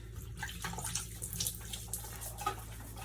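Water runs steadily from a bathroom tap into a sink while the face is wet before a shave, making a continuous close splashing rush.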